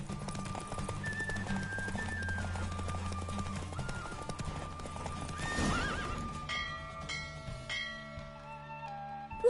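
Horse hoofbeats clatter at a gallop with loud neighs and whinnies from a mount racing in The Witcher 3: Wild Hunt, set over game music, the rhythm breaking up near the end.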